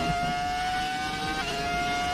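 Ferrari F2004 Formula 1 car's high-revving engine in a racing video game, a steady, loud, sustained whine holding one pitch with a brief shift midway, continuous and alone.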